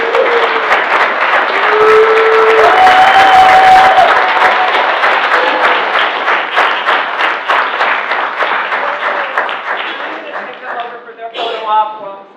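Breakfast meeting crowd of a BNI chapter applauding in a room: dense, steady clapping for roughly ten seconds with voices talking over it, thinning into scattered claps near the end.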